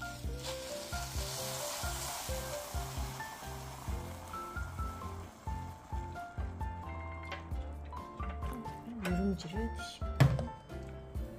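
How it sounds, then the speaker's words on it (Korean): Water boils and sizzles in a hot natural soapstone rice pot where scorched rice is being made, a steady crackling bubble that runs throughout under a person talking, with a louder hiss near the end. "물이 끓어, 이렇게"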